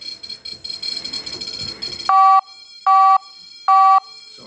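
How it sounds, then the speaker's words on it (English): A REM pod paranormal detector near a haunted gramophone sounds its electronic alarm in three loud, evenly spaced bursts of steady beeping tone, after a stretch of busier, noisier warbling. "Every time it gets bigger, the REM pod goes off."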